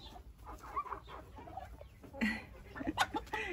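A Czech Dominant hen clucks softly nearby in a series of short, irregular calls over a quiet outdoor background, with a few louder clucks toward the end.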